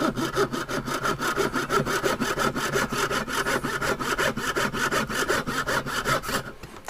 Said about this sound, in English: Now these are pull saws, so they cut on the pull.